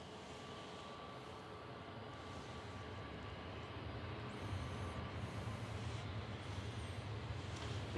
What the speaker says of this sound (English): It's GV Kiss coming in from Orlando with Flight 74, A330-300